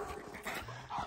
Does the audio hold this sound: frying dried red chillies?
no